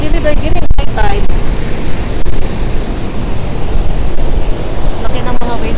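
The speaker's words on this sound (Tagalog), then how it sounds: "Oh, the waves, look at that." Big ocean waves crash and roar continuously along the California coast at high tide on a surfing beach, a loud steady wash with wind noise buffeting the microphone.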